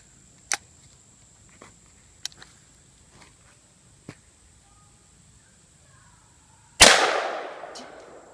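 A shotgun fires live rounds downrange in one loud, sharp blast that rings out and slowly fades, after several faint clicks and handling knocks.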